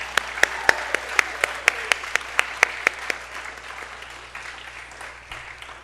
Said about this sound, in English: A big round of applause for Rahi.